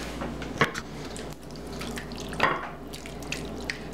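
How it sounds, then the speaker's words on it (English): Liquid sauce poured over tilapia fillets in a Rival roaster oven pan, a steady trickling, splashing flow with a couple of brief louder splashes. "now take all this and pour it over your fish"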